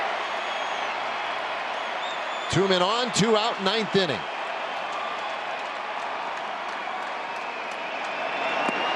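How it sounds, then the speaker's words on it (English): Crowd noise fills a ballpark in the ninth inning of a Mariners vs Rangers game, a steady roar with a brief louder swell of cheering and whistling, while an announcer talks over it. "This might be the most enthusiastic crowd we've had all year."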